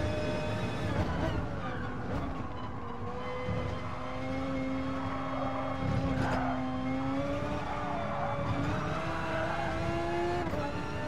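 Race car engine in Gran Turismo, a continuous high-pitched whine that climbs and shifts pitch as the car accelerates through gears, with steady road roar underneath and no speech heard.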